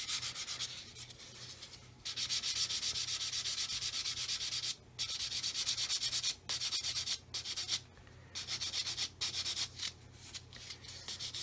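Sanding sponge rubbed over a 1/144 scale plastic model of a Roden C-141B Starlifter aircraft, giving a close, steady scratchy rasp in repeated strokes with several brief pauses between bursts.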